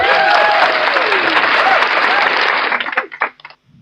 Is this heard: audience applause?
yes